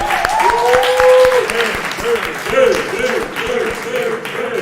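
Audience applause at a Podcast Detroit event, a steady wash of clapping with some voices and cheers rising over it throughout.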